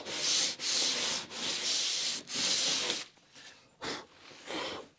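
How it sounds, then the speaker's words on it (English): Sandpaper rubs over lapstrake cedar planks during crack repair in four long, steady, close strokes, then a few shorter, quieter passes. "Swipe some sandpaper. Although it hardly needs to sand cedar."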